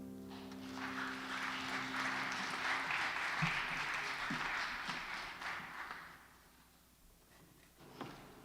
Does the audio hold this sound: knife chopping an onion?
no